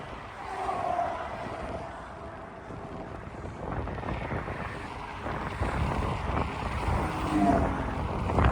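Continuous rumbling road traffic with vehicles swelling past, mixed with gusty wind buffeting the microphone, heard while cycling the Katy Trail near a big river toward St Charles; no talking.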